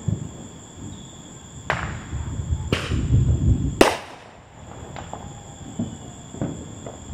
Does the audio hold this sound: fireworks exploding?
yes